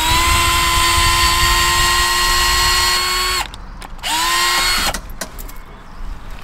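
A power drill whines loudly at a steady pitch, then cuts out, spins briefly again in reverse backing a ground peg out of hard standing, and stops, leaving a quieter outdoor background.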